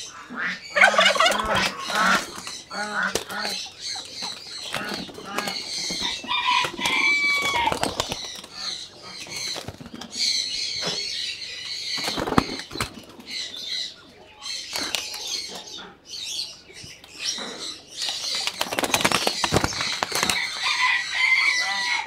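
Pigeons call and coo close by, with repeated throaty bursts and some fluttering and clatter in a busy loft, with no one speaking.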